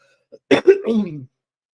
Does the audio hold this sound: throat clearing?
yes